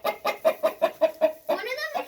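Hens cluck in a farm chicken pen, a quick run of about eight sharp, evenly spaced clucks close by, ending in a drawn-out squawking call, with no talk over them.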